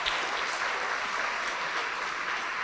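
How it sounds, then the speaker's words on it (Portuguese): Church congregation applauding together, steady dense clapping filling the space with no talk over it. "E vamos aplaudir ao Senhor Jesus por cada vida que está chegando"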